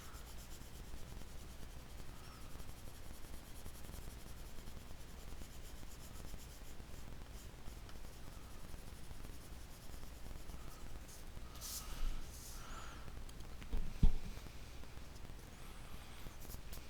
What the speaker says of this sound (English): I'll turn my paper when I'm shading too